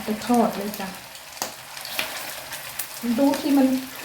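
German-style pork and beef patties fry in oil with a loud, steady sizzle and a few sharp spattering pops, while a voice speaks briefly near the start and again toward the end.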